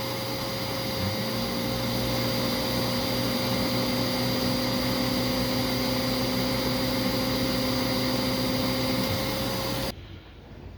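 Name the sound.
Simplicity Verve vacuum cleaner running with power nozzle on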